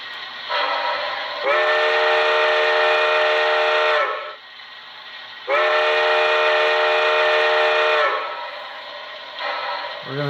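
A Baltimore and Ohio step top three-chime steam whistle from a Soundtraxx Econami decoder sounds in two long, loud, chord-like blasts of about two and a half seconds each, with lower steam sound before, between and after them.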